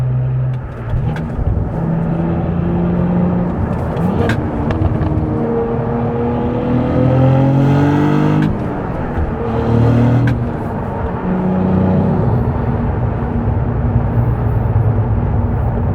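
A Cadillac CT4-V Blackwing accelerates hard from inside the cabin, its engine note climbing through gears in loud, sustained rising sweeps with brief dips at each shift, then settling into a steady drone.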